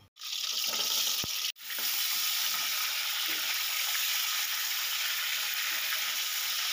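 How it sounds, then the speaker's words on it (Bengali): Pointed gourd rubbed with salt and turmeric fries in hot mustard oil in a wok, giving a steady, dense sizzling hiss that runs on without a break after a brief start, with no voices. "এবার যে আমি নুন হলুদ মাখিয়ে যে পটলগুলো রেখেছিলাম পটলগুলো আমি হালকাভাবে ভেজে নেব।"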